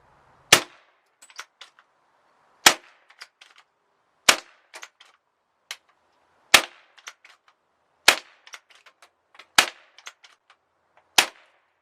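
Seven sharp, snappy shots from a Webley Nemesis .177 CO2 air pistol without a moderator, spaced about two seconds apart, each followed by faint metallic ticks and clinks, with silence in between.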